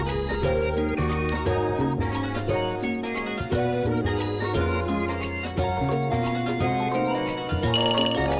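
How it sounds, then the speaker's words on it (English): A phone call ringtone from the Wild Season farming game plays as a bright, repeating melodic jingle, loud and continuous with no talk over it. "Oh, it's a phone call sound."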